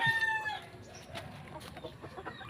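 Brood stag rooster at a game farm clucks and crows, close and moderately loud, with other fowl calling faintly behind it in the short stretch.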